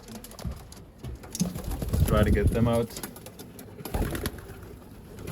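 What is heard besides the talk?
young racing pigeons squeaking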